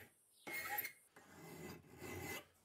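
A file rasps across a bolt clamped in a vise in three distinct strokes, each a gritty scraping burst separated by brief pauses, heard up close in an otherwise quiet space.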